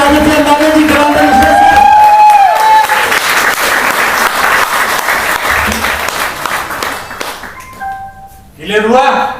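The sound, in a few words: loud audience applause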